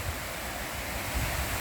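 Waterfall in a gorge near Chester, Massachusetts, a steady, loud, broadband rush of falling water with some wind noise, heard alone.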